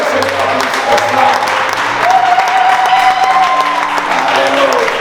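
A wedding congregation clapping loudly and continuously in a church, dense sustained applause with voices and singing tones mixed in.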